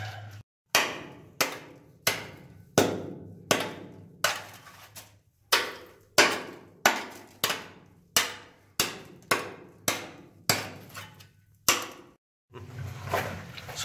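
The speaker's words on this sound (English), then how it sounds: "let's start hammering some of this out" About twenty sharp hammer strikes ring out one after another in a steady rhythm, each blow clanging on hard rock at a hard rock mining site and decaying before the next.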